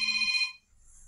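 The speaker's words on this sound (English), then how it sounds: "now, unfortunately, that's my phone ringing." A mobile phone rings indoors with a short, bright electronic tone burst that cuts off after about half a second, fairly quiet and alone.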